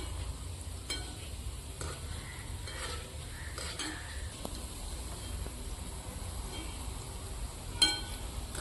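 Gulab jamun frying in hot oil make a continuous gentle sizzle, with occasional clinks of a spoon against the pan at close range.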